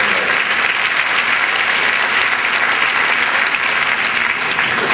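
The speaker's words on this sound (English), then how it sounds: "Yeah, we clap on that." Steady, dense applause from a large audience, continuous and fairly loud throughout with no talking.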